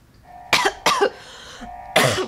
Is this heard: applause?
no